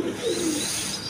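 Pakistani high-flying Giribaz pigeons coo in a low, rolling murmur over a steady background hiss, one close bird's throaty notes rising and falling across a brief stretch.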